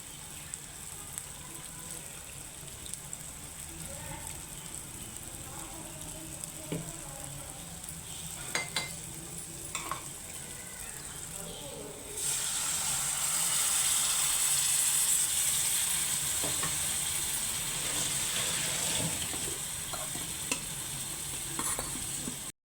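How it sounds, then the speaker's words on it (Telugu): Tamarind juice poured into a pan of simmering egg omelette curry, a steady hiss that swells loud and bright midway and holds, close up with light clinks, no talking. "ఇప్పుడు ఇందులో చింతపండు రసం వేసేసుకుందాం"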